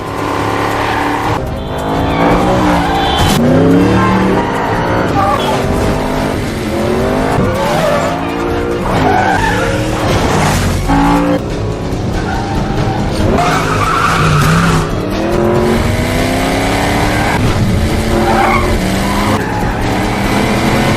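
Film car chase with engines revving and tires squealing and skidding repeatedly, loud and dense throughout, cars roaring past amid busy traffic, with no talking.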